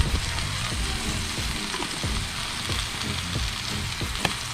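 Meat seasoned with adobo sizzles steadily in a pan at a campsite, an even bright crackle with occasional soft clicks of stirring, close and continuous without any talking.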